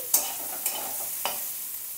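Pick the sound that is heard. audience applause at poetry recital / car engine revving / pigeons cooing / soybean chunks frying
soybean chunks frying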